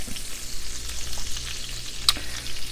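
Butter and bacon sizzle steadily in a hot pan at the start of a chicken Marsala dish, a constant close frying crackle with one brief clink of a utensil.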